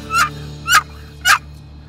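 Three slow, drawn-out gobbler turkey yelps, evenly spaced and close, made by a person imitating the bird with a call.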